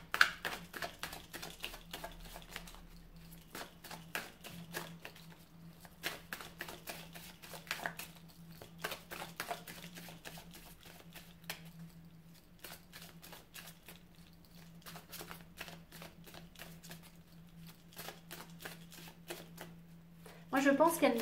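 Tarot cards are shuffled and handled close by in quick, repeated riffling bursts with soft clicks and pauses, under a faint steady hum, with a short loud rustle at the very end.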